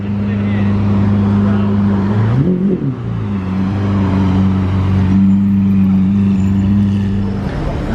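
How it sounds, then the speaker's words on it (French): A Mercedes-Maybach S-Class arrives at a hotel among a waiting crowd during a Gumball 3000 stop in Monaco, its steady low engine hum loud and close, with a brief swell of revving midway and a voice talking over it. "Une classe S Maybach qui arrive"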